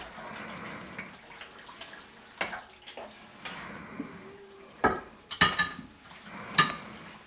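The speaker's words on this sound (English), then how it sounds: "We're going to pour half of the macaroni and cheese into the bottom of this baking pan" Cooked macaroni and cheese poured and scraped into a baking pan, soft wet slides and squelches broken by a few sharp metallic clinks of a utensil against the pan, fairly quiet and close.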